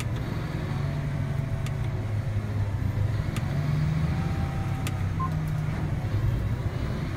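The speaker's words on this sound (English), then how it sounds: "move the tractor to full throttle position and then begin shifting the transmission up" A tractor engine at full throttle as the E23 transmission shifts up, a steady low droning rumble held at a constant level, with a few faint clicks on top.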